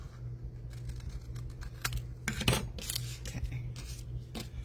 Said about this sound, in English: So let's cut this to fit the frame.